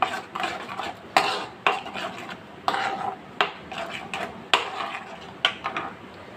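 A spoon scrapes and stirs a mustard and poppy seed paste in a dish, making rhythmic, close, fairly loud strokes that repeat roughly every half second to a second with no voices.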